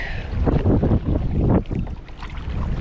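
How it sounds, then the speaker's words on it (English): A kayak is paddled across a windy lake with waves, with loud wind buffeting the microphone and uneven water splashes and sloshing close by, no voices. "I'm trying to paddle across the lake right now"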